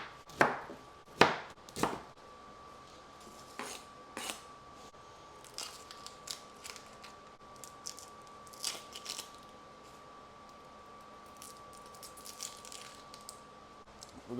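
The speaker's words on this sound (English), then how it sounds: "We're going to start by dicing the onions" A knife dicing onions on a plastic cutting board, sharp irregular chops at first, then quieter scattered taps and scrapes, close by, with a faint steady hum underneath.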